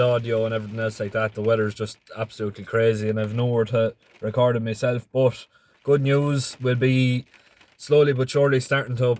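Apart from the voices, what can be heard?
No distinct noise like a dog, phone or traffic.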